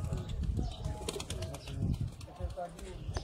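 A Sialkoti pigeon coos close by in a muffled low warble, repeated a few times amid rustling and handling noise, with people's voices heard faintly in the background.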